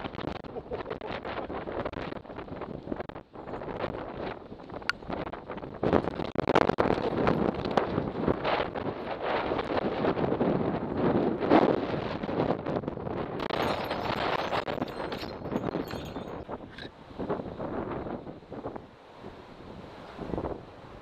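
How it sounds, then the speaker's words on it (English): Strong 60 to 70 mph wind on a garden allotment roars and buffets the microphone continuously, with gusts rising and falling in loud, rumbling surges throughout. "It's 60-mile-an-hour, 70-mile-an-hour winds."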